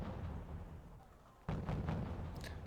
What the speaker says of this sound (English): I've got my mortars going just to try and panic them